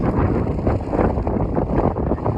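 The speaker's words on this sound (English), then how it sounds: "Hopefully you can hear me over all the wind that picked up once I got to the summit." Strong wind buffeting the microphone on a Colorado mountain summit near Mummy Mountain and Hagues Peak, a loud, continuous low roar with gusty surges throughout and no voices.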